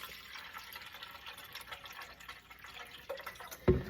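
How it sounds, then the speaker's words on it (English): Water poured into a humidifier tank, a faint trickling and splashing with scattered drips that swells into a louder gush in the last second. "So you're gonna pour your water into the humidifier."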